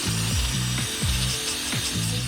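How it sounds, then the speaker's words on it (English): A hand ratchet loosening bolts on a Suzuki SV650 motorcycle, loud close clicking in quick repeated strokes, each pull a rapid run of pawl clicks followed by a short pause. "I always like to undo things with a ratchet first, just in case it's super tight"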